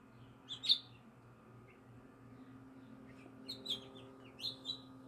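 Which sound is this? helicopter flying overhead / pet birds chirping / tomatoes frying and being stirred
pet birds chirping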